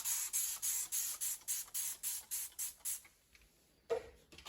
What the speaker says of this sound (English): Go ahead and spray both of the cars.